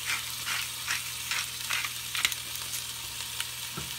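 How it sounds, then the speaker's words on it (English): A Pampered Chef grinder cracks fresh pepper in a home kitchen, giving a rhythmic series of quiet, gritty crunching bursts, roughly two per second, close by and with no speech. "I'm just going to grind some fresh pepper in here"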